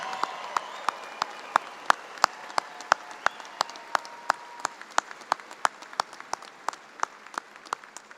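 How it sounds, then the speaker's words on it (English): Applause for graduates at a spring commencement for health and human sciences, heard as sparse, sharp individual claps at a fairly even rhythm over a soft hall background, with no talking. "big round of applause."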